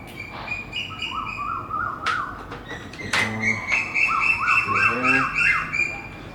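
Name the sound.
birds singing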